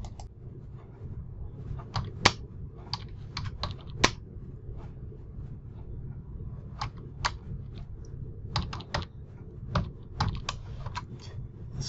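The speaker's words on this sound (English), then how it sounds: "Let's type in just axis and see what I get." Close, quiet tapping on a computer keyboard as a command is typed into MATLAB, irregular bursts of clicky keystrokes separated by short pauses over a faint room hum.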